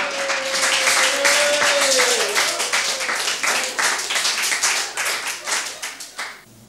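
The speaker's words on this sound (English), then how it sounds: "give him a big round of applause" An audience at a 1974 Melbourne cabaret cafe breaks into sustained clapping that swells, holds and tapers off, with a faint rising whistle-like tone early on.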